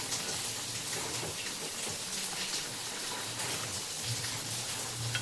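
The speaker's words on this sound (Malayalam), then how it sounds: "നന്നായിട്ട് തിളച്ച് വന്നിട്ടുണ്ട് മീനൊക്കെ" A Kerala-style anchovy (natholi) fish curry boils in the pot, giving a dense, even bubbling and popping patter that holds steady at close range.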